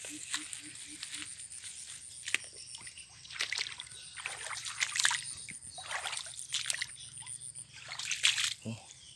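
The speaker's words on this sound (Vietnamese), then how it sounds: "Bên kia là lội đi suối qua nha các bạn." Feet wade across a stream, sloshing and splashing in irregular bursts while someone talks over the water noise.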